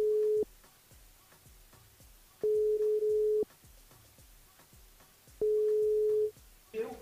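A radio host's call to a listener rings through a telephone line, giving three long steady tones separated by quiet gaps, with a brief click at the end.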